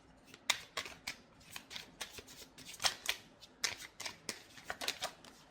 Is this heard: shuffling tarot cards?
yes